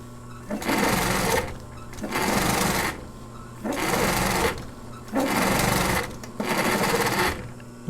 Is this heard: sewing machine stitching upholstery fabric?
yes